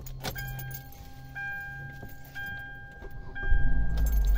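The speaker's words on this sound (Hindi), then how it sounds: "गाड़ी चालू हो चुकी है," A 2015 Hyundai Tucson engine starts. Repeated dashboard chimes and key clicks come first, then the engine cranks and catches with a low rising rumble near the end, heard up close from inside the car.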